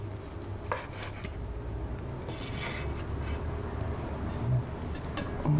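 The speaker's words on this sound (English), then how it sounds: "You can feel it when you slice it." A knife slices through oven-roasted beef tenderloin, cooked 40 minutes at 375, giving quiet, close scraping and cutting strokes against a board, soft and steady with occasional light clicks and no talking.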